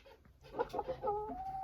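A Cochin bantam rooster clucks close by, a short run of several clucks ending in a drawn-out call, fairly quiet against a still background.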